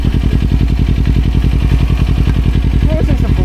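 Kawasaki Ninja 250 motorcycle engine while riding a road between Jogja and Wonosari, a loud, close, steady rapid pulsing drone at cruising speed.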